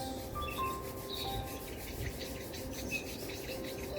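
Palms rub together in a quiet yoga session, a soft, close, repeated brushing friction with faint insect-like chirps in the background.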